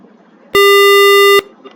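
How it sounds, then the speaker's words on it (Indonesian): A microcontroller temperature alarm buzzer gives one loud, steady tone lasting just under a second, close by, with faint background noise before and after. "LCD merah akan menyala dengan buzzer yang berbeda-beda."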